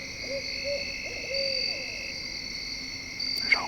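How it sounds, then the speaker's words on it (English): Owl hooting up in the trees of a Missouri woods, a few soft, low calls at middle distance over steady insect drone, with a brief rustle near the end. "There's a hoot owl up there."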